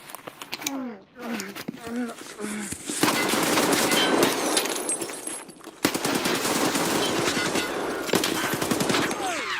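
Rapid automatic gunfire from the video game Escape from Tarkov, on the Shoreline map, rattles in long sustained bursts, close and loud, after a voice speaks briefly at the start.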